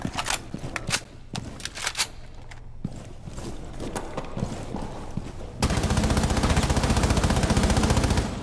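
Pistol gunfire in Rainbow Six Siege, a series of sharp close shots in the first half followed by a dense, rapid burst of automatic-sounding fire, with no talk.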